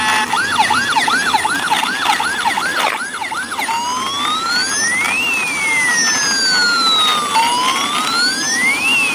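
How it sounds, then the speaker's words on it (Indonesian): An ambulance siren wails loud and close, first in a rapid repeating yelp, then switching to a slow rising-and-falling wail that sweeps up and down twice. "ini ada mobil ambulans"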